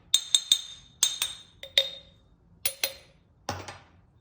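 Glass clinking sharply several times in quick, bright taps, a few clustered strikes followed by pauses, ending in a duller knock, close and clear with no talking.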